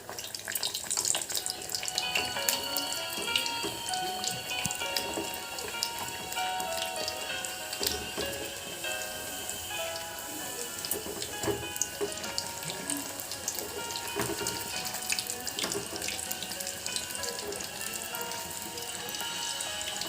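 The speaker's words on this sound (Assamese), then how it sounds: "এতিয়া মই গৰম হৈছে যিহেতুকে পুৰি দি দিম। এখন এখনকৈ মই ভাজি যাম।" Puri frying one by one in hot refined oil, a continuous bubbling sizzle with scattered crackles and pops that stays fairly soft and even throughout.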